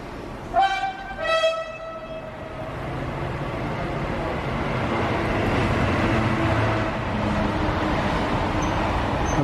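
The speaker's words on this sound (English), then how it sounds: "Train coming in going to Cambridge North" A train heading to Cambridge North pulls into Stevenage station: two loud horn toots up front, then a rising rumble as it rolls in, with voices heard over it.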